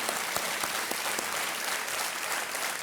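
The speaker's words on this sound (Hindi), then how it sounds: "तालियों के साथ इनका भी स्वागत किया जाए।" A studio audience on a televised quiz show bursts into loud, continuous applause, a dense wash of many hands clapping together throughout.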